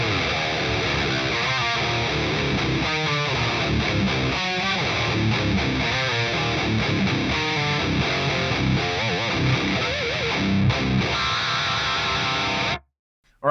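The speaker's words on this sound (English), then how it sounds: "Sounds like a good idea to play some filthy riffs." Heavily distorted electric guitar plays chugging riffs, loud and dense for several seconds, then stops abruptly near the end.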